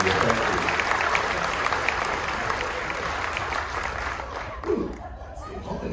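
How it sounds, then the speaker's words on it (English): Audience applause for military veterans at a large appreciation gathering aboard the Carnival Magic cruise ship, thick continuous clapping from a crowd with some cheering and background chatter, holding steady before easing off. "If we can give them a round of applause"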